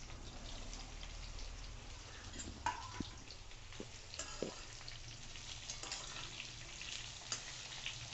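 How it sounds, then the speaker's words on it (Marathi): Raw Totapuri mango pieces frying with asafoetida in a pan, a soft, low sizzle with a few faint clicks of stirring, close but quiet and without talk. "आता छान आपण परतवून घेऊ"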